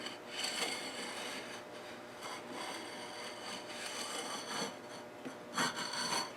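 A compound radius guitar fretboard is sanded with 180 grit paper, a close, continuous raspy scraping in repeated back-and-forth strokes with no talk.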